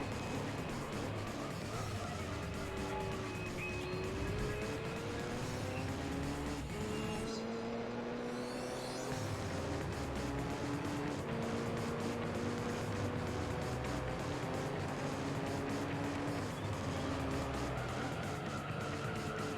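Motorsport Elise race car in Gran Turismo 3, its engine climbing and dropping in pitch through repeated gear changes at full throttle, with brief tire skids and other cars' engines mixed in the background.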